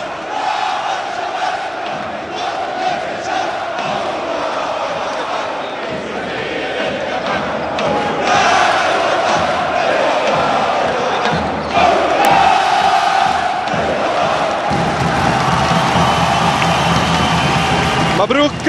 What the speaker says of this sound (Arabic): النشيد الوطني اللبناني من الجمهور اللبناني